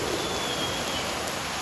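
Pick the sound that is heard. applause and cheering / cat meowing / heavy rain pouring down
heavy rain pouring down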